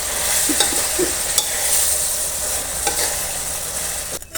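Mussels stir-frying with basil leaves in a hot pan give a continuous loud sizzle broken by several scraping stirs, close up and with no talk.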